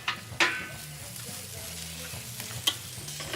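Sausages sizzle over a charcoal grill in a steady soft fry, broken by a couple of sharp clanks of a utensil or tongs against the grill, with no talk.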